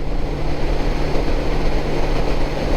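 A Honda GL1800 Goldwing motorcycle cruising westbound on Highway 3 toward Simcoe, Ontario, gives a steady, close wind-and-engine roar with a constant low hum, no talking.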